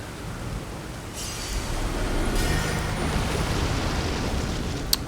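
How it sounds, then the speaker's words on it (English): Rain in the Elden Ring snowfield area, a steady broadband hiss that swells slightly and holds without pause, with a faint click near the end. "God, and it's raining."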